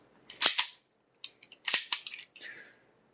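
A Tisas 1911 Duty 5-inch pistol is cleared up close: sharp metallic clicks and clacks of the magazine release and slide come in two quick bursts, with no talking.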